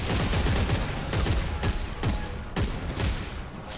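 Rapid bursts of gunfire in the video game Dead Space 3, several sharp shots in quick succession over a dense, loud background of game noise and music.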